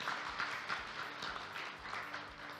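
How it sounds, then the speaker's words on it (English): Audience applause for the Cambodian delegates at a Mekong regional water, energy and climate policy forum, a faint, fairly rhythmic clapping heard from a distance for a few seconds. "let's give a big round of applause from our friends from Cambodia"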